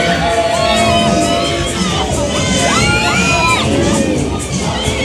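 A large seated crowd at a Christmas event in Windsor, England shouts and cheers excitedly, children's high whoops and shrieks rising over dense, loud babble throughout.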